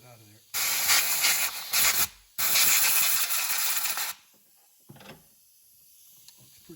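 Compressed air from an air hose blasts debris out of an engine opening on a Chevy HHR in two loud, harsh hissing bursts, followed by quiet with faint clicks.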